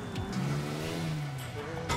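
Car engine in GTA IV revs up with a rising, loud mid-pitched whine that holds and then fades, heard close and alone over about two seconds.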